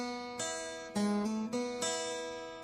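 Acoustic guitar single-note picking: a few plucked notes spaced apart, each ringing and fading, quiet and close with no voice over it.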